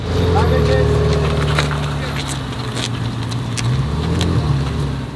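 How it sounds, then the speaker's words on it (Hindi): A Ferrari supercar driving on desert roads near Dubai, its steady engine drone and road rumble loud and continuous throughout, with slight rises in pitch as it pulls along. "now we are taking the Ferrari"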